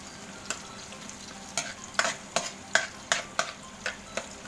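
Garlic sautéing in a pan for Filipino ginisang munggo, with a soft steady sizzle and about a dozen sharp spatula stirs and scrapes at a brisk, uneven rhythm, close up and without talk.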